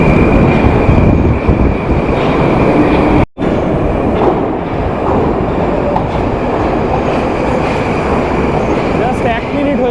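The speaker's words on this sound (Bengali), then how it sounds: "জাস্ট 1 মিনিট হয়েছে, মেট্রো চলে এলো" A Moscow metro train rolls into the station with a loud, steady rumble of wheels and carriages, a brief dropout near the start, and people talking over the noise.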